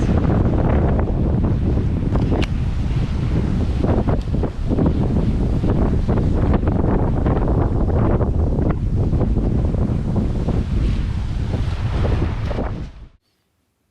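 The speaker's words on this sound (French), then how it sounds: "Il y a 20 nœuds de vent, de temps en temps ça monte à 24." Loud, continuous 20-to-24-knot wind buffeting the microphone on a sailboat at sea in the Azores, with rushing waves and boat noise underneath, until it cuts off abruptly near the end.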